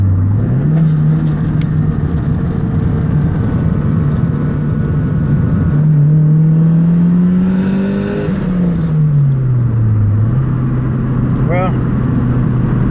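A turbocharged Honda Civic tuned to around 10 psi, with a leaking seal, revs hard through several gear pulls, its engine note rising and dropping between shifts with a turbo flutter near the end.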